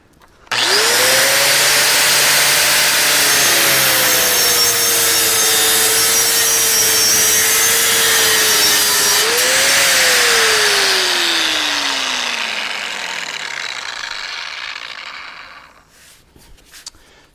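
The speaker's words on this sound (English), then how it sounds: "So now we're going to go ahead and just give it a try at cutting through this steel" Metabo WP 13-150 six-inch angle grinder spinning a cutoff disc through one-inch square steel tubing: a loud, continuous whine with broadband hiss that climbs briefly, then winds steadily down as the cut ends and the disc spins to a stop.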